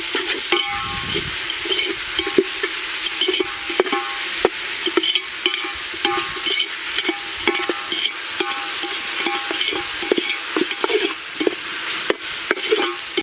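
Ginger paste frying with onion and garlic in a pan, a loud continuous sizzle broken by frequent scraping clicks from stirring, close up and with no talking.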